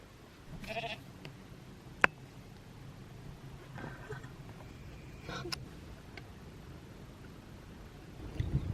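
Faint sheep bleats sound in the distance a few times over quiet outdoor ambience on a coastal mountain trail in County Mayo, Ireland, with a sharp click partway through.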